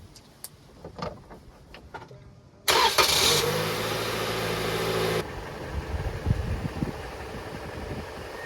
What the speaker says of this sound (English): We're gonna let the engine run for about 2 to 3 minutes.